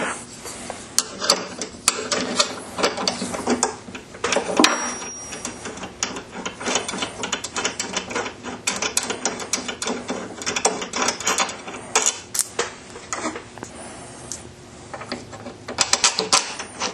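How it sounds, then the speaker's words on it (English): Metal parts of a Lee 4-hole turret press rattle and scrape as a bolt is removed and a holder pivot is fitted for the safety prime, giving close, busy clicks, ratcheting and rubbing with no talk. "to install the safety prime, we need to remove this bolt and install this holder pivot thing"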